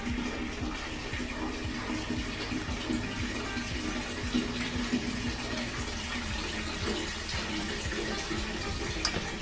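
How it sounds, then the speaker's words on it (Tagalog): Water running into a cooking pot while preparing bilo bilo, a steady gushing pour that continues throughout at moderate loudness with no talk over it. "Ayan, nalagyan na ng tubig."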